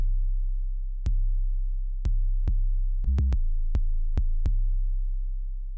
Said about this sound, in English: I'm going to show you how to turn an 808 that sounds like this